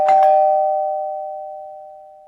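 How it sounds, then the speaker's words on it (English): A two-tone doorbell chime rings once, the struck tones hanging on and slowly fading out in an otherwise quiet room. "rang the doorbell"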